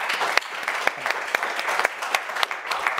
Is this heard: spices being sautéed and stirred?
no